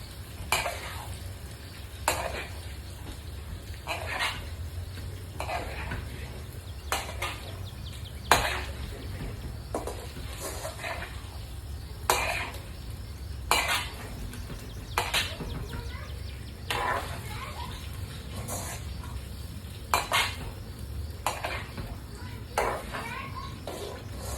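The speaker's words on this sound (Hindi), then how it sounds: "इसके अंदर ये चना और आलू शामिल कर देंगे।" Chana and potatoes being stirred in a cooking pot, with a steady sizzle underneath and repeated scraping strokes of a spoon against the pot at a regular pace throughout, close and moderately loud.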